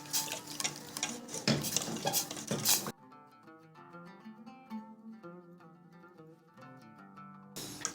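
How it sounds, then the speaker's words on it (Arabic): A spoon stirring béchamel sauce in a pot, scraping and swishing loudly for about three seconds before the sound stops, then returning briefly at the end, with music in between. "كنستمروا في التحريك حتى كتوجد لينا لاصوص بيشاميل ديالنا"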